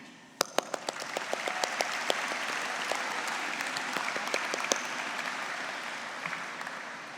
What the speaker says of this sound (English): let's give credit where credit is due with a round of applause for all of the supporters that came out for you